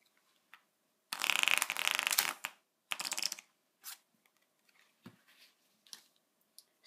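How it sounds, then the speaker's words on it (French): A deck of playing cards riffled during a card trick makes a loud, fast flutter lasting about a second, then a shorter second riffle, followed by faint scattered card handling and taps in a quiet room. "ce que je vais te demander, c'est de feuilleter le paquet"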